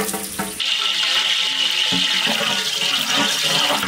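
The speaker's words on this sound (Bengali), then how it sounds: "আচ্ছা, গামলা আমাকে গরম হয়ে গেছে, দিয়ে দেবো সর্ষের তেল।" Mustard oil poured into a hot cooking pot for mutton curry, rising after a short pause into a loud, continuous rushing hiss that holds steady to the end.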